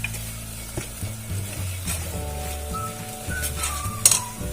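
Curry leaves sizzle as they drop into hot oil while a mutton and potato gravy is cooked, a soft crackle with occasional clinks of a utensil against the pan, fairly quiet and close.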